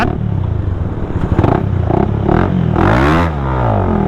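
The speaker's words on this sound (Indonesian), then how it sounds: "suara knalpotnya ini bising banget, cempreng ya" A loud, raspy, tinny exhaust on a Honda CS1 250cc fuel-injected motorcycle, fitted with an R9 aftermarket exhaust, revs and drones continuously, with rising and falling pitch sweeps near the end.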